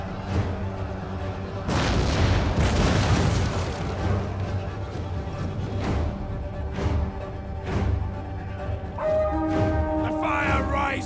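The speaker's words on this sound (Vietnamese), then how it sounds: "Bắn hết cơ số đạn pháo đấy." Artillery fire in the Total War: Attila strategy game, heavy booming blasts and crackling bursts layered densely over a rumbling battle din, with a voice talking over the barrage.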